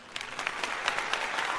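Group clapping plays as a short sound effect: a dense, steady patter of many hands with a few sharper individual claps. It sounds close and even, with no talking over it.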